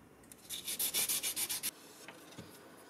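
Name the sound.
hand sanding a carbon fiber knife handle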